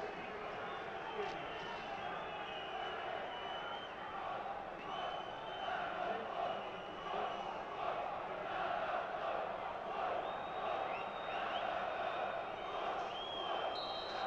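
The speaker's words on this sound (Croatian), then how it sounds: "Sada naši navijači pokušavaju malo podići atmosferu, dati podršku, obodriti naše" Croatian football supporters in a stadium crowd at a Croatia versus Argentina match in Basel, a steady dense roar of massed voices and chanting that continues throughout under a commentator's talk.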